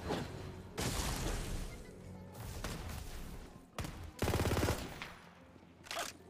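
A rip and tear gun fires in a video game in loud, ragged bursts of rapid automatic shots, with brief pauses between volleys and sharp blasts near the end.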